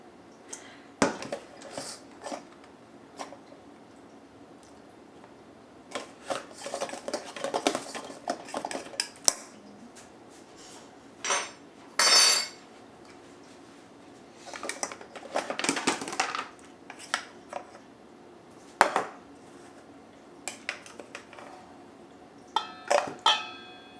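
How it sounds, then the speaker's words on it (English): A spoon scoops cooked rice from a pot, producing intermittent metallic clinks and scrapes against the pot spread across a quiet stretch, with pauses between scoops. "Let me go grab a spoon for the rice. We are going to scoop the rice."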